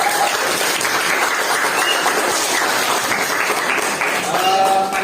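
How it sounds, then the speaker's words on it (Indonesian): A school class of seventh-graders applauds together, a continuous burst of clapping filling the whole few seconds at steady loudness. "Tepuk tangan untuk kelas 7B."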